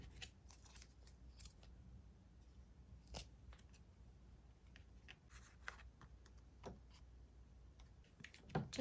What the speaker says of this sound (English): I'm just gonna have to cut all the little words out so that they'll fit